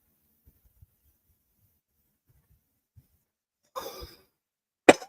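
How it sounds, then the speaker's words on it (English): Two close, sharp coughs from one person break a near-silent stretch of faint rustling, the second cough louder and more abrupt than the first. "I didn't mean to cough on you."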